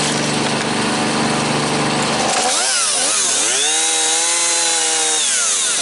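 A chainsaw runs at a loud, steady high whine for a couple of seconds, then its pitch drops and rises repeatedly as it bogs down cutting a branch.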